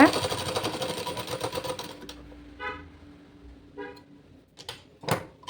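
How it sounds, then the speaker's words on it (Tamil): A sewing machine stitching a dart on a blouse runs in a fast, steady whir for about two seconds and then stops, followed by a few short, scattered clicks and handling sounds. "நம்ம டாட்டுக்கு ஸ்டிச் பண்ணிக்கலாம் நல்லா ஷார்ப்பாக மிடிச்சுக்கோங்க"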